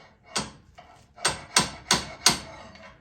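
Five light hammer taps on the metal of a VW Beetle adjustable beam during a ball joint rebuild, sharp and close, loosely spaced and growing a little more regular toward the end.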